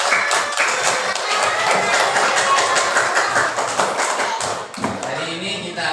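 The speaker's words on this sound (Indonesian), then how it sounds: "Ya sekarang kita beri tepuk tangan dulu ya." Classroom applause from a group of children, with many close, fast, steady claps running almost the whole time and tapering briefly near the end.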